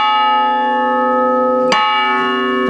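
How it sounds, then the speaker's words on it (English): A church tower bell at Pellon Christ Church in Halifax, sounded through an Ellacombe chime mechanism, rings loud and close with a long, sustained metallic hum. A second strike lands partway through and adds to the lingering tone. "What the bells sound like"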